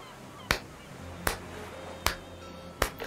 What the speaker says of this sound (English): You hear someone clapping.